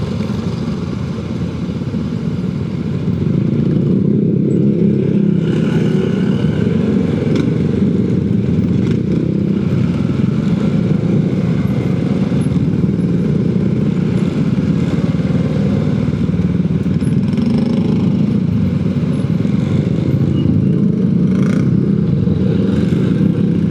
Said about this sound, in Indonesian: Ini pertama kali naik motor nyebrang pakai feri.